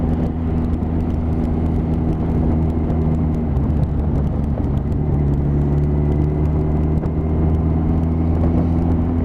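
Motorbike engine on a ride home at night, a steady loud droning hum with a low tone that dips and rises slightly partway through, constant and close with no talk.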